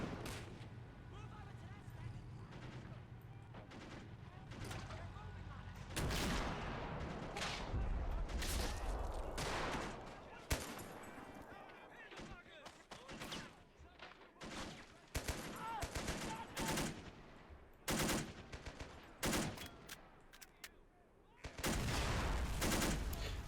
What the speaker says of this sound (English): The machine gunner here is doing most of the firing.